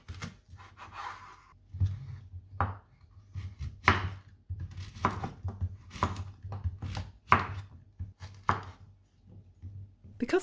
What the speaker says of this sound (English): Dice these into small chunks.